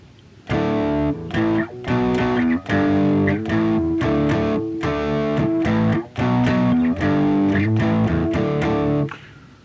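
Open, unmuted electric guitar rhythm strummed with downstrokes through a distorted tone, chords ringing out fuller and sustaining between strokes, played in repeated loud phrases with brief pauses, close and without any voice.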